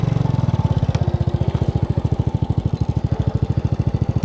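A motorbike engine idles close by with a steady, rapid thumping pulse as it is brought to a stop on a hillside road in Da Lat, Vietnam, loud and alone throughout.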